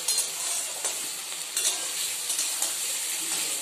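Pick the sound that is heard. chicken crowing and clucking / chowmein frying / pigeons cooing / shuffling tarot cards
chowmein frying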